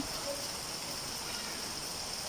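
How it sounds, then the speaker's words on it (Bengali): Heavy monsoon rain after four days of nonstop downpour, a dense, steady hiss with no breaks, loud and close throughout. "আজকে চার দিন ধরে প্রচণ্ড বৃষ্টি হচ্ছে"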